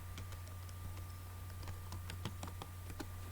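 Rapid irregular keystrokes on a computer keyboard while entering text into a simple C shell program, a steady close clatter of light clicks over a low constant hum.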